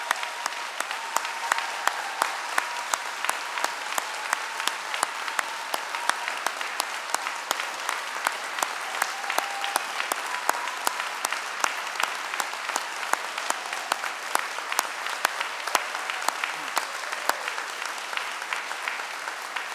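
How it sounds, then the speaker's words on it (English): A large audience at a London degree ceremony applauding graduates, with steady, dense clapping that holds for about twenty seconds at an even level and no clear voices above it. "let's give them one last huge round of applause"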